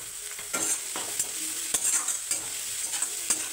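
Finely chopped carrots frying in a pan, a continuous bright sizzle broken by repeated scraping stirs and spatula knocks at an uneven rhythm, close and fairly loud with no talking.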